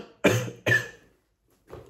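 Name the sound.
cough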